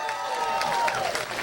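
Comedy club audience clapping with some whoops, a short loud burst of applause and cheering filling the room, with a faint amplified voice threading through.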